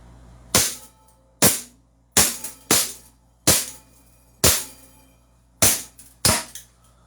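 Black Beretta pistol fired at a range, eight sharp loud shots in an uneven rhythm with brief ringing decay after each, close by and with no talk.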